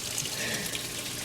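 A washing machine fills with water for a load of laundry, a steady rushing gush of water running into the drum, moderately quiet and continuous.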